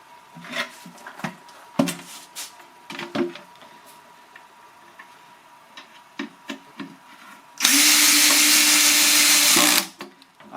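Power drill with its clutch set around 10 driving screws into a wooden beehive box: one loud, steady whirring burst of about two seconds, preceded by scattered knocks and handling clatter in a quiet room.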